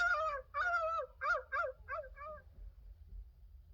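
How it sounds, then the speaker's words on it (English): A pet dog whines and howls in a series of rising, wavering cries that taper off into quiet, close and clear with no talking. "That night, Lulu kept everyone awake with her howling, her whining, and her rough and tumble racket."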